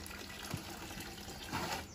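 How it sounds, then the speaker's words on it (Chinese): Water trickles slowly from a hose pipe at a rural vegetable farm, giving a soft, steady, faint gushing wash that swells slightly near the end. "水管让它慢慢的流"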